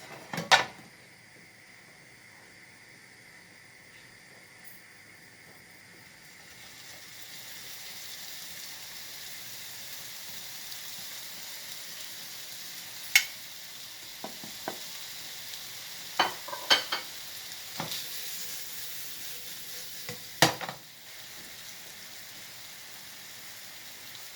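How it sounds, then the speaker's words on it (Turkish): Meatballs and zucchini sizzle in a pan, a steady hiss of frying that swells after the first few seconds. Sharp clicks and scrapes from stirring break in now and then. "Şimdi üzerine kabağını alıyoruz ve köftelerimizi soteleyeceğiz."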